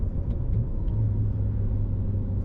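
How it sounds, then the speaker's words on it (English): BMW E90 exhaust cruising off-throttle at about 2000 RPM in fifth gear, a steady low droning rumble inside the car with no speech, quiet and even throughout. "if I'm around 2000 RPMs like now, 5th gear, and I'm not giving it any gas, I cannot really hear much at all."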